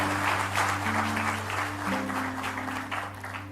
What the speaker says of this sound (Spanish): si le vas a dar un fuerte aplauso al Señor